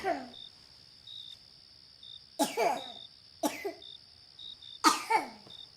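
A seven-year-old girl in the next room at night gives light coughs in four short bursts spaced a second or two apart, muffled and moderately close, over a faint steady cricket chirp in a quiet house.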